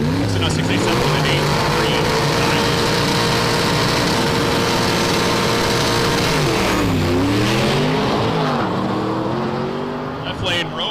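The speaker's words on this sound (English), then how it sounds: "You can hear the nitrous kicking on as after every shift." A Mustang drag racing in the left lane on nitrous, engine roaring loudly and continuously with rising pitch sweeps at each gear change, a commentator talking over it throughout.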